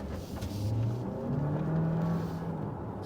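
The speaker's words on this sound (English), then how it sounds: "you can hear the engine just kind of get a little bit raucous every now and again when you put your foot down" Heard from inside the cabin, a 2026 Kia Sportage hybrid SUV accelerates, its engine note rising and holding as a steady, moderately loud drone, with road noise underneath and no talk.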